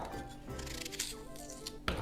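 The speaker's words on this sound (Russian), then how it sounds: "Так, нарезаем яблоки небольшими кусочками." A knife slices apples into small pieces on a board while duck with apples is being prepared. Soft, close cutting and crunching sounds are quiet and irregular, with a sharper snap near the end.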